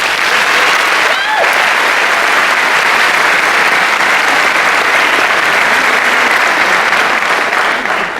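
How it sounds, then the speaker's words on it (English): Loud sustained applause from a large graduation crowd for teachers, steady clapping filling the whole stretch with a brief whistle near the start. "Can we please get a round of applause for all of our teachers here today?"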